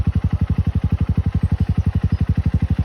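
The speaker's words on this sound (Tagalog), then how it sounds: "Patay mo muna yung motor." A motorcycle engine idles up close, a steady, rapid, loud thumping pulse with no talk over it.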